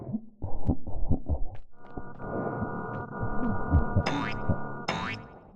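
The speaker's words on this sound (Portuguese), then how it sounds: "Ele faz um barulho que parece estática, e ele que faz esse som de choro." A creature in the game Catastrophe Crow gives off a harsh static-like buzz that swells into a sustained hum, broken by rising wailing cries near the end, loud and close.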